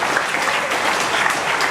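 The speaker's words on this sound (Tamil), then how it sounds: "இந்த 6 பேருக்கு முதலில் உங்கள் கரகோஷங்களை நீங்கள் வழங்கியார்கள்." An audience at a live Tamil public gathering applauds continuously, a dense steady wash of many hands clapping, loud and even throughout with no voices standing out.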